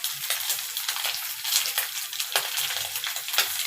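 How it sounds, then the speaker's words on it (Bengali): Small mola fish fry crisp in hot oil, giving a close, continuous sizzle broken by sharp crackles and spits. "একটু কড়া ভাজা দিব মাছগুলা"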